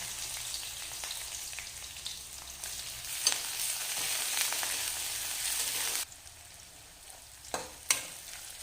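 Sliced onions drop into hot mustard oil with cumin, cloves, cardamom and bay leaf, giving a loud steady sizzle with stirring scrapes and sharp spatters. The sizzle drops suddenly partway through and a few clatters follow, with no speech.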